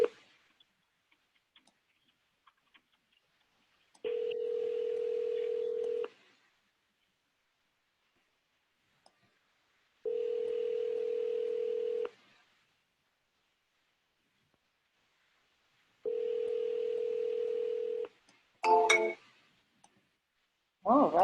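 Telephone ringback tones during live outbound calls: three identical steady tone bursts, each about two seconds long, at regular six-second intervals against near silence, followed by a short burst of clicks and a brief voice at the end.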